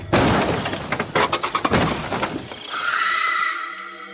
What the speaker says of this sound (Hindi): और बहुत तेज लिफ्ट के टकराने की आवाज आती है।